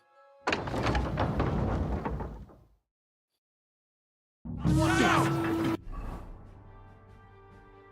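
A heavy castle gate in Kingdom Come: Deliverance 2 grinds and rumbles loudly for about two seconds, falls silent, then a second creaking, groaning heave follows and trails off into a low resonant decay.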